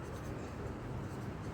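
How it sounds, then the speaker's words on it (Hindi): A pen writing out a math equation on paper, a soft, continuous scratchy scribbling that stays steady and close throughout, with no talk over it. "तो मैं यहाँ पे लिख देती हूँ"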